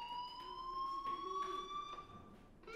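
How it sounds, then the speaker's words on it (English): A school fire alarm in the video game Life Is Strange Remastered sounds as a steady, loud electronic tone with bright harmonics and pulsing bursts, continuous throughout with no talk. "do you hear that fire alarm?"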